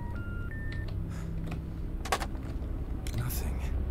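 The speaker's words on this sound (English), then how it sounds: "Let's make a phone call." A phone keypad in the horror game In Sound Mind is dialed: a few quick beeping tones at the start, followed by soft clicks and button taps over a steady low background hum.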